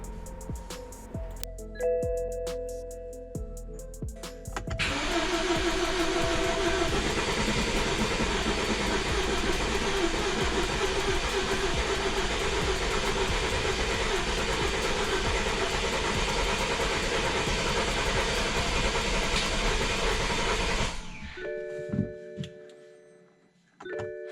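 A BMW engine cranks continuously for a long stretch without catching, apparently not getting fuel, a loud steady whirring grind that cuts off abruptly, with clicks before and after.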